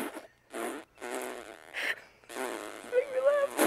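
A voice imitates farts during an interview, making a series of short buzzy lip-blown bursts and then a longer wavering one, close to the mic, with bits of laughter between them.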